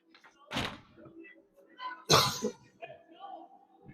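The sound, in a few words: cough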